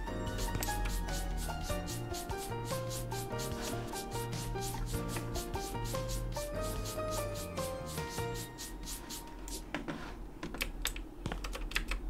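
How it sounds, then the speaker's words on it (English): Walls are scrubbed by hand, giving rapid, repeated rubbing and scraping strokes close by, layered over a tonal background that sounds like music, with the strokes growing sparser toward the end. "Scrubbing the walls."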